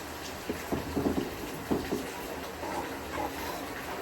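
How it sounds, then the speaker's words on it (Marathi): Monsoon rain falling outdoors makes a faint, steady hiss heard from inside a home, with a few soft knocks and thumps in the room. "बाहेर मस्त पाऊस पडतोय"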